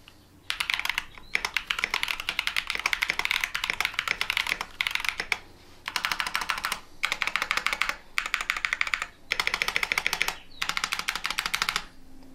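Gateron Baby Kangaroo tactile switches clacking under steady typing on a mechanical keyboard, bursts of rapid keystrokes separated by short pauses, close and clear with no talk.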